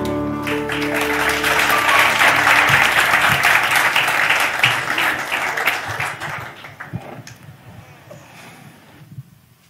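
Church congregation clapping hands during a Father's Day sermon, loud sustained applause that swells, holds dense for several seconds, then tapers into scattered claps and dies away.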